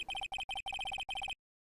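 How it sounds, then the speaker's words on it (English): A telephone rings in Phoenix Wright: Ace Attorney, giving quick electronic trilling bursts in a short series of rapid pulses that stop abruptly into silence. "The phone that rang earlier wasn't mine."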